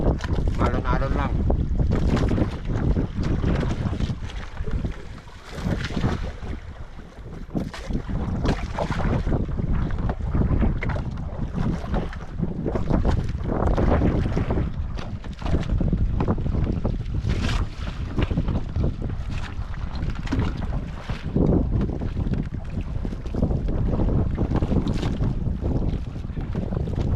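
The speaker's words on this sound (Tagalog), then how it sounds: "Kasi sama ng hangin tapos malamig." Strong wind gusts buffet a small boat out at sea on choppy water, a steady loud roar with rushing waves throughout.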